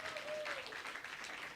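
Faint applause from a church congregation during a service, a soft wash of clapping heard at a distance with a brief tonal squeak near the start.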